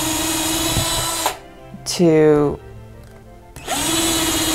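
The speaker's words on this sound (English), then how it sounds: "Now I'm drilling small pilot holes" A power drill whirs for about half a second, pitch sliding as it bites into wood, drilling small pilot holes for cup hooks, between stretches of talk.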